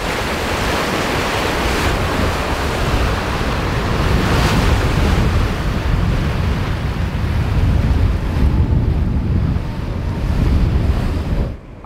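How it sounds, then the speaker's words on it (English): Loud, constant wind roar and rushing waves aboard a sailboat on open-sea passage through squalls, with gusty buffeting on the microphone and no voices. "sailing through some squalls and of course dodging electro storms as best as I can"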